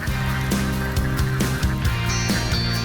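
A flock of ducks being herded in Tegal quacks loudly and continuously, many overlapping calls close by in a busy, rhythmic chorus.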